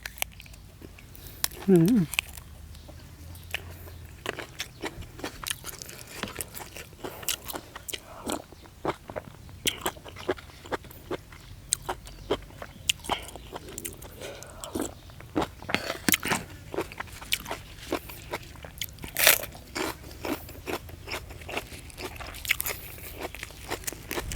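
Raw leucaena pods are bitten and crunched close up in a series of sharp, irregular snaps and chews, while someone speaks at times in between.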